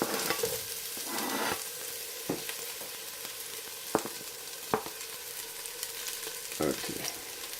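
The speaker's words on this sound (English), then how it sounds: "You hear the sizzling." Steady oil sizzle from courgettes frying in a pan, with a few sharp clacks of utensils against the pan scattered through.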